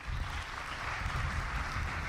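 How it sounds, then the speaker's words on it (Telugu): Audience applause fills a religious discourse hall on Varahi Devi, a dense, steady wash of clapping from many hands, continuous and fairly loud throughout with no talk over it. "చప్పట్లు కొట్టండి ఒక్క క్షణం"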